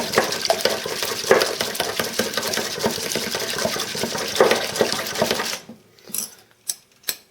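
A Pogo Whisk beats scrambled eggs in a bowl, a busy wet whirring and clattering that runs steadily for several seconds, then stops and gives way to a few separate knocks and taps.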